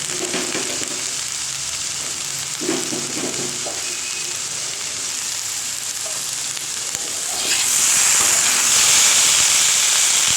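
Green chillies and plenty of tomatoes frying in a pan give a steady bright sizzle with faint stirring clinks, growing louder and hissier toward the end.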